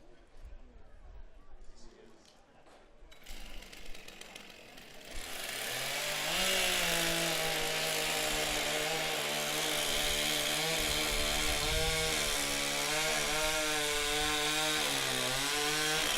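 A chainsaw trims a wood block at a STIHL Timbersports pro championship in New Zealand, starting after a few seconds of background voices and then running loud and steady, its pitch wavering slightly as it cuts.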